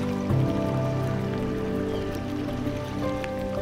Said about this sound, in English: You can hear all the ice popping.